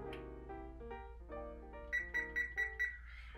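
A kitchen timer is being set for fifteen minutes with a run of electronic tones. First come descending and rising melodic beeps, then five quick high beeps in steady rhythm, close and fairly quiet with no talk.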